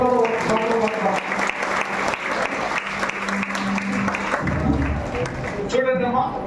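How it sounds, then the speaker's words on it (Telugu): An audience at a cooperative gathering for Yanadi tribal women claps together to welcome guests, sustained close applause that fades near the end as a voice speaks. "ఒకసారి గట్టిగా చప్పట్లతో స్వాగతం పలుకుదాం."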